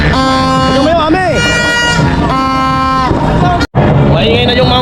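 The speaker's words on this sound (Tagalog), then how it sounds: "Maingay na yung mga motor dito." Blaring horns and revving motorbikes fill a New Year's Eve street, with several sustained, overlapping horn tones and a wavering honk over a steady crowd murmur and nearby voices.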